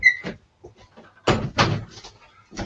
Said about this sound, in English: I guess we should close the door